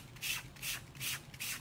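Four rhythmic back-and-forth strokes of sandpaper on a wooden box frame, close and evenly spaced, with no voices.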